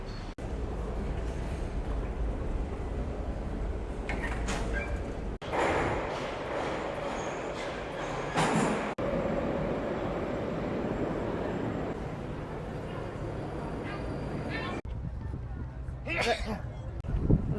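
Moscow metro train on a crowded Sunday afternoon, a steady rumble of carriages running underground with brief louder bursts and squealing, under constant crowd babble and voices talking.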